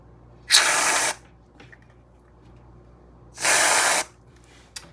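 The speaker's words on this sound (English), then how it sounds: "And then some spray whipped cream." Two short bursts of whipped cream spraying from an aerosol can, each about half a second, separated by a quiet pause with faint handling noises.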